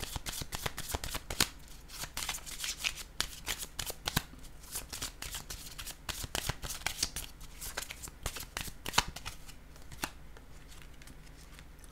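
Tarot cards being shuffled during a love reading, a dense run of crisp riffling flicks and slaps repeating steadily throughout, close and fairly quiet with no talking.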